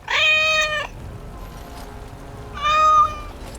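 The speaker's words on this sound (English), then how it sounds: "An adorable tabby kitten." A tabby kitten in the game Dragon Age: Awakening gives two clear, close meows about two seconds apart, with a quiet pause between them.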